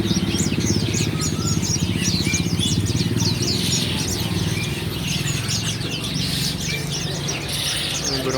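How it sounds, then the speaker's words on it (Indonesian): Dense, continuous chirping from a crowd of parakeets packed into cages at a bird market kiosk in Pamanukan, with a steady low rumble of market and motorcycle noise beneath the birds. "Banyak banget parkit."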